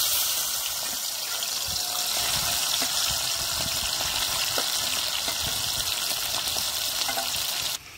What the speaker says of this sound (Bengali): তেল গরম হয়ে গেছে, দেবো চিংড়ি মাছ।